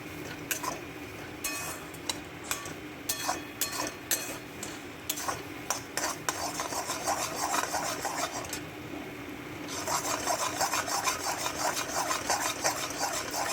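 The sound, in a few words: stirring pointed gourd and shrimp mash in a pan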